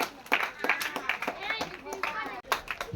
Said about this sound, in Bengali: সবাই হাততালি হবে